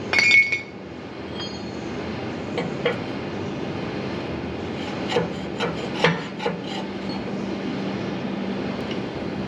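Small metal tool parts and spare tips clink and rattle in a John Deere toolbox on the side of a farm implement, a few sharp clicks scattered over a steady rustling background.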